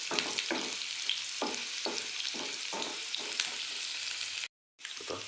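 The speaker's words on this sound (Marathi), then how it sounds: "छान मध्यम आचेवर त्याला परतून आपल्याला घ्यायचं" Onion sautéing over medium heat for a fried tomato masala makes a constant close sizzle, with regular scraping stir strokes about every half second and a brief silent gap near the end.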